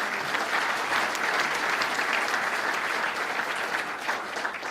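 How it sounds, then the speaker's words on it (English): A crowd at a Staten Island public announcement applauds a new borough president, a steady, fairly close wash of clapping that holds evenly throughout with no voices over it. "Let's give him a round of applause."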